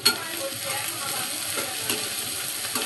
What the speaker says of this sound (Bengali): পেঁয়াজটা বাদামি হওয়া পর্যন্ত নাড়তে থাকবো